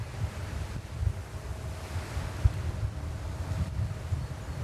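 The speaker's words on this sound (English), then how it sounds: "the wind is very strong." Strong wind at JFK airport buffets the microphone in a constant low rumble with gusty thumps and surges, loud and close, with no voices.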